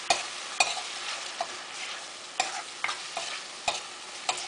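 Tomato and onion gravy for rajma curry sizzles in a pan under a spoon, with sharp scraping clicks of stirring every half second or so over a constant close frying hiss.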